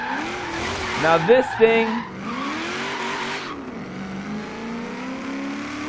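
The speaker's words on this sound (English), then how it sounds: "if you feather the gas in first gear, it spins the tires" A supercharged HSV GTS Maloo in Forza Horizon 3 squeals its tires in short bursts while the engine revs loudly nearby, then settles into a steady drone, with someone talking over it.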